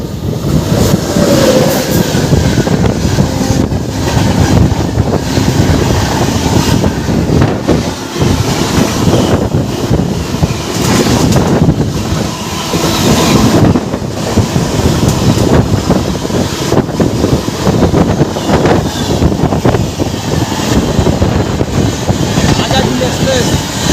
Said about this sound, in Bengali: কি ধামাকাটাই না দিল আজাদ এক্সপ্রেস আর করমণ্ডল এক্সপ্রেস প্যারালাল রেস মারছে।